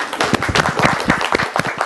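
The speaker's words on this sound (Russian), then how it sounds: "ему должна достаться львиная доля аплодисментов была" Brief applause from an audience at an academic talk, with distinct claps rising and falling in a loose patter for about two seconds.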